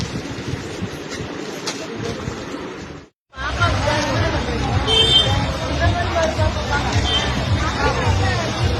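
Dense crowd hubbub fills a busy clothing shop during Diwali shopping, a steady wash of overlapping voices and movement that cuts out briefly near the three-second mark before resuming just as thick.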